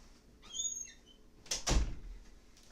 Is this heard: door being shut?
yes